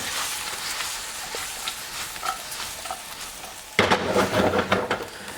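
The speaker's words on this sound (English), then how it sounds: "And then in with my spring onions. Just going to cook those for a second." Spring onions frying in a pan alongside Brussels sprouts and nuts, a steady close sizzle that jumps louder partway through as more goes in, with stirring scrapes and no talking.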